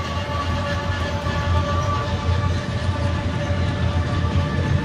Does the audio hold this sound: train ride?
yes